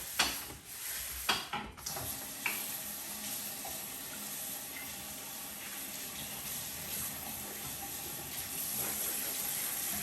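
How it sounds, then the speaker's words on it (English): Steady running water from a bathroom sink faucet as a sponge is rinsed under it, a continuous close wash with a few brief knocks near the start. "Rinse out your sponge"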